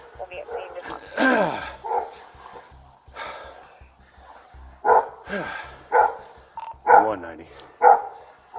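A dog barks repeatedly, a series of loud, evenly spaced barks near the end after earlier yelps and voices talking in the background.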